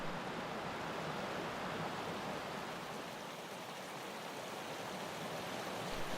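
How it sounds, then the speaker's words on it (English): Wilkinson Creek runs clear over its bed, a steady, even rush of flowing water that continues without a break at a moderate distance. "The water over in Wilkinson Creek was running nice and clear"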